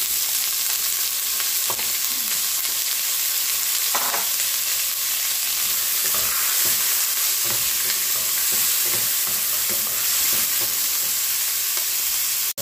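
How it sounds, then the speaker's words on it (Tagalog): Ground meat sautéing in a pan with tomatoes, a loud continuous hiss and crackle of frying, with occasional knocks and scrapes of stirring, no voices. "Yan, igisa natin yan."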